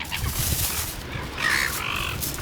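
Harsh, squawking seagull calls ring out close by on a beach, two or three cries over a noisy outdoor background.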